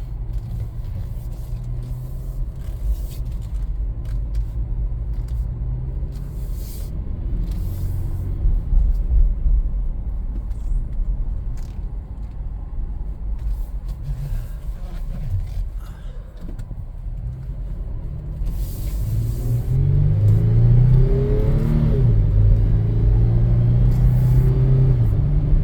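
A Toyota 4Runner Trail Edition drives along with four-wheel drive disengaged, a steady low engine and road rumble throughout, swelling as it accelerates near the end, with occasional knocks and rattles from the cabin.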